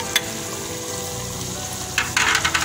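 Chicken sizzles with biryani masala, prunes and tamarind in a pan, a steady low frying hiss with a couple of sharp stirring scrapes, close and unaccompanied by talk.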